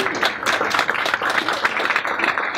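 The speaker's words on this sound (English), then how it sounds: "So, big round of applause for Mark," Audience applause for a speaker at a tech talk, a steady wash of clapping from a modest crowd, fairly loud and even across the whole stretch.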